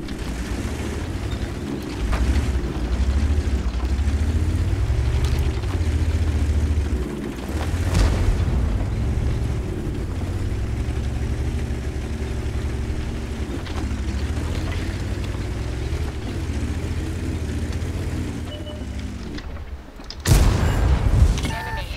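Artillery shells hitting a tank in World of Tanks, heard as several deep booming impacts over a constant heavy engine rumble, with a sharp, loud blast near the end and no talking.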